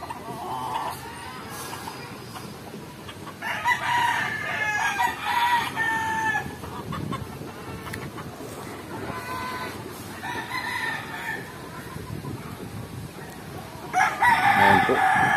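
Gamecocks being readied for a cockfight crow repeatedly in loud, drawn-out calls, several birds overlapping against steady outdoor background noise.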